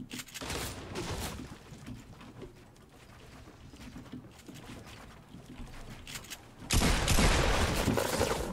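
Video game gunfire during a chaotic online battle: a rapid burst of shots up front, quieter scattered action in the middle, then a loud, sustained volley at the end.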